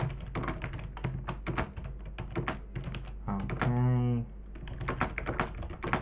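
A computer keyboard being used to type a reply to a customer, soft irregular key taps close by, interrupted by a brief spoken word midway before the typing resumes.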